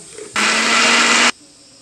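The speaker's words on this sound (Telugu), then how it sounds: "ఇది జీలకర్ర ఎల్లిపాయలు మిర్చి జీలకర్ర ఇవి వేసి మనం మిక్సీ పట్టుకుందాం" A mixer grinder whirs loud and steady for about a second, grinding cumin, garlic and green chilies, then cuts off abruptly.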